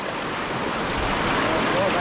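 Fast-flowing river current rushing over rocks at a riverside camp, a dense, loud, steady roar of water filling the whole moment, close to the microphone.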